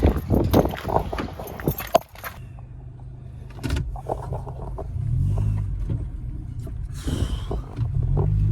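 A Honda Stream idles and is driven in nearby with a low engine hum, some clunks and rustling, and a bright mechanical whir partway through.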